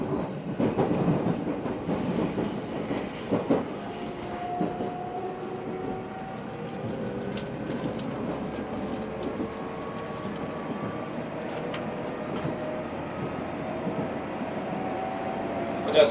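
A JR 373 series electric train on the Tokaido Line rolls along the rails with steady rumbling, faint squeals and clacks, a high whine near the start, continuous and moderately loud throughout.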